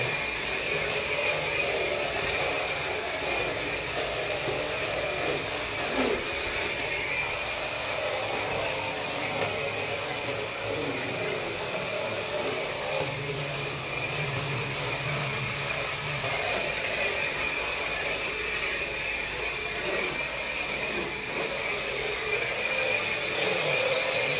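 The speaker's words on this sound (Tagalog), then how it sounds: "medyo maingay pag nagbabacuum ako" A vacuum cleaner runs continuously with a steady, loud whirring drone, unbroken for the whole stretch.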